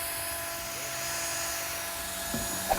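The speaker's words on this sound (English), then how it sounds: "buy an attachment for your drill for scrubbing out the inside of your keg" A drill with a scrubbing brush attachment cleans the inside of a homebrew keg, a steady, high-pitched whir running continuously, with a faint rubbing hiss layered over its constant motor drone.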